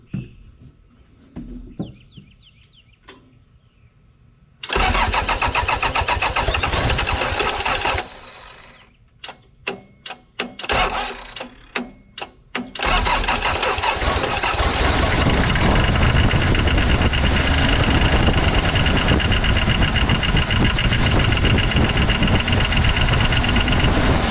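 An old skid steer that has sat for years cranks with a few stuttering turns, catches briefly, sputters, then fires and settles into a loud, continuous close-up engine roar.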